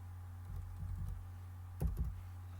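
Computer keyboard typing of a workplace address, two quiet bursts of soft key clicks over a low steady hum.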